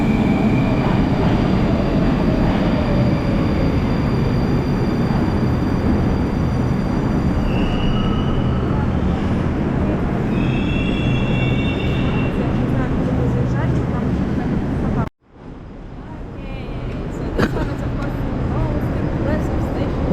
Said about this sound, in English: Oh, it's a new train.